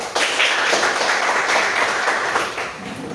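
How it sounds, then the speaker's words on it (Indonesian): A group claps for a classroom team in a multicultural lesson session, with steady dense clapping running loud for about two and a half seconds before tapering off. "tepuk tangan untuk kelompok 2"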